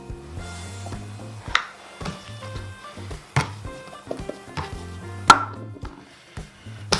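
A new bench scraper divides sticky bread roll dough into portions on a floured kitchen work surface, sounding as a series of close, sharp knocks and taps at irregular intervals with soft scraping between.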